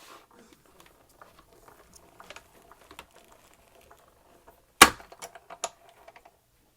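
A printing press runs inked plates through for wax paper resist printmaking, with faint scattered clicks and ticks building toward one sharp, loud thump of the pressure kick, then a few lighter clacks trailing off.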